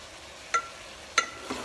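Prawn dum biryani rice with mint is stirred in a pot, giving a few sharp scraping clinks spaced apart over a soft, low background, with no speech.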